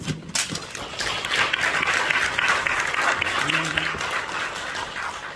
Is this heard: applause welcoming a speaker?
yes